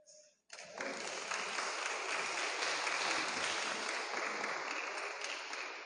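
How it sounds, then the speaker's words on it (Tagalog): Hesitant applause from an audience at a sermon: after a brief quiet moment, clapping starts abruptly and holds at a steady, moderate level for several seconds. "Alanganin ang palakpak."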